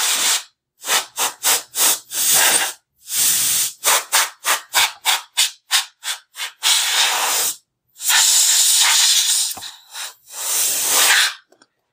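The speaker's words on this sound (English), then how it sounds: "So, just get some of your compressed air and just start spraying it." Compressed air sprayed in repeated bursts to blow dust out of a Sega Dreamcast console, close and loud: a run of short rhythmic hissing puffs, then a few longer sustained blasts, with no talking.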